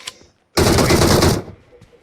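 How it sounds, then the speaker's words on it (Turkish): A burst of automatic gunfire from the video game PUBG Mobile, one loud sustained volley of about a second, close and dense, preceded by a brief quieter shot. "Ya o bana vuruyor ben ona vuruyorum olmuyor ya"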